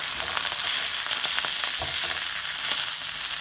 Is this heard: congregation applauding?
no